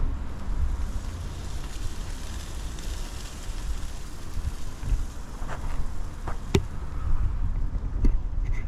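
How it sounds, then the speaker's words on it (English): Wind gusts steadily across an outdoor cooking spot where half-pound Aberdeen Angus burgers are being made, buffeting the microphone in a constant low roar, with a few faint clicks and knocks of handling. "this is a bit windy,"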